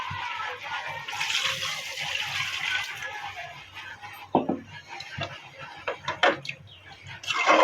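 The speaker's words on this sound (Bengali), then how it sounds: "আর এই যে জল দেবো।" Water poured into a pan of duck meat cooking with garlic, a steady splashing wash for several seconds that gives way to scattered clinks and knocks near the end.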